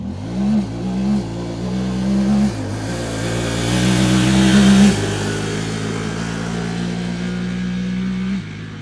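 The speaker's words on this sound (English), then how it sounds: "I'm basically gonna hit the gas, push it all the way to the floor, and not let go until I hit 60 miles per hour." A Honda Talon side-by-side on stock tires accelerating at full throttle from 0 to 60 mph, its engine revving loud and close, climbing in pitch through several gear shifts and holding a steady high drone.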